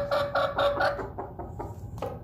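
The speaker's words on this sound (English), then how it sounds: "What are you three chickies playing?" Three young backyard chicks cluck and peep in quick bursts close by, soft, uneven chirps tapering off, with no talk over them.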